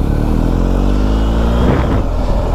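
BMW R1250GS motorcycle riding off, its loud, close engine rising steadily in pitch as it accelerates, then settling near the end of the short burst.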